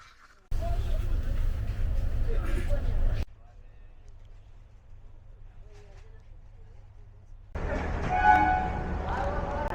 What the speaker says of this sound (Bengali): আমাদের ট্রেন ছেড়ে দিয়েছে একদম টাইমে।